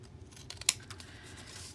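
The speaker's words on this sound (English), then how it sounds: "And grab the scissors." A single quick snip of scissors trimming paper while working on a writer's journal, a short crisp cut against quiet room tone.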